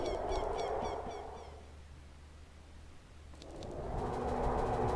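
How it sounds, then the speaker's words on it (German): Raven caws echo over the eerie, dead-tree slopes of Death Mountain in Zelda: Ocarina of Time, a few short harsh calls at the start and again near the end over a steady low ambient drone. "Man hört Raben."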